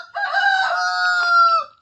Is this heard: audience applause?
no